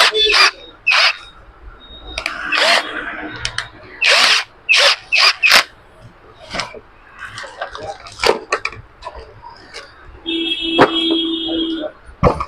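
A cordless screwdriver drives screws in repeated short whirring bursts, close and loud, with brief pauses between them and a sustained higher-pitched run near the end.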